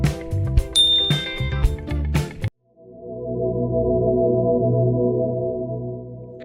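A notification bell ding stands alone after a burst of music: one bright chime that rings on and slowly fades.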